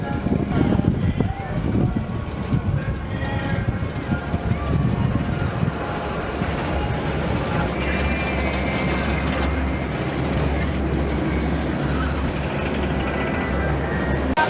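A mostly empty roller coaster train at Busch Gardens Tampa rumbles and clatters along the track, a steady mechanical roar with a low hum building partway through, fairly close.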